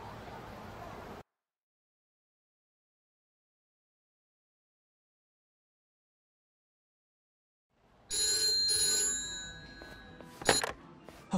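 Telephone in the video game Yakuza: Like A Dragon rings after a long stretch of silence, a bright electronic trill with sharp tonal peaks near the end, heard alone in a cutscene.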